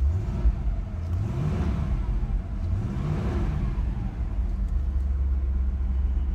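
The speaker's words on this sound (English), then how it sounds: "The engine sounds really good, really healthy." Carbureted engine of a 1959 Cadillac running steadily with a deep, continuous low rumble and mild swells in revs, close and loud with no talk over it.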